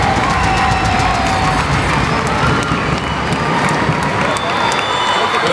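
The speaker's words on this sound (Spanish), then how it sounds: "¡Un aplauso grande!" A large crowd in a stadium applauds and cheers at a prayer and thanksgiving gathering, a loud, dense roar of clapping and voices that stays constant throughout.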